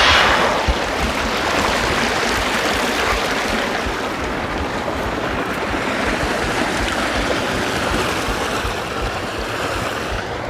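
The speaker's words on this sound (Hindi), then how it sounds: "नदी है" A river stream flows at Baisaran in Pahalgam, Kashmir, as a loud, steady broadband rush of water close by, with no voices over it.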